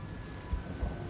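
A stormy night with steady rain hissing across a surface, broken by two short, low thunder thumps in quick succession.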